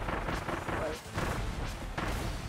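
Link bombs explode in Kirby and the Forgotten Land, a run of heavy, booming blasts that keep coming for a couple of seconds, loud and close, with a short dip in the middle.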